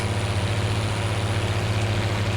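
Tractor engine from Farming Simulator 19 running at a steady idle-like drone, a strong low hum with constant loudness throughout and no talking.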